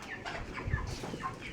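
Chickens on a small farm that also keeps ducks cluck softly and repeatedly in short, uneven bursts. The sound is quiet and somewhat distant, with no one speaking.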